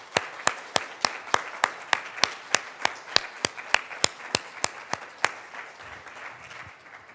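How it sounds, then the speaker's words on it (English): At a childcare awards ceremony, crisp, evenly spaced claps sound close and clear, about sixteen in a steady rhythm before stopping, leaving quiet room tone. "I ask the room to one more time give you all a very big applause"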